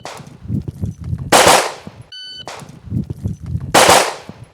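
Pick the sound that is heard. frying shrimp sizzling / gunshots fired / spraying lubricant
gunshots fired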